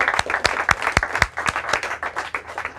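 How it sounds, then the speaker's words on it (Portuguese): Applause for the third-place team at a school awards event: a small group claps close by, with distinct sharp hand claps standing out over a lighter patter, brief and fairly loud. "Uma salva de palmas para a Sofia."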